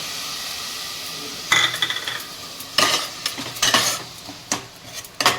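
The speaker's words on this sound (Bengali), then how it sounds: "এবার এটা একদম পুরো ভাজা হবে" Tomato puree and spices fry in oil in a pan for a potato curry. A low, steady sizzle runs beneath bursts of spoon stirring, scraping and metal clatter against the pot.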